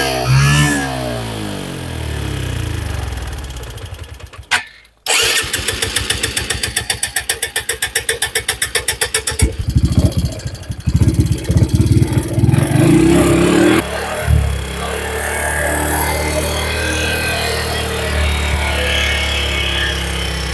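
Motorcycle engine running on a mix of biogas and gasoline, revving and sputtering up close, with a brief cutout before settling into a steady, rough running drone.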